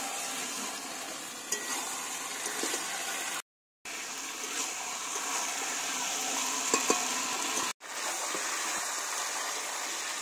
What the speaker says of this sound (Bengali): ওর মধ্যে মাংসটা দিয়ে দেবো।